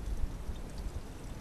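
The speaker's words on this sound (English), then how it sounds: "Pour some gas in there." Two-stroke gasoline being poured into the carburetor of a 4 HP Briggs and Stratton engine, a short, faint, steady trickling pour.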